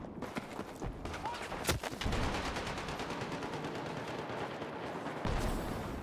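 Rapid SMG bursts in a first-person shooter video game, crackling continuously through the stretch with dense repeated shots and a few heavier impacts, under a faint background voice.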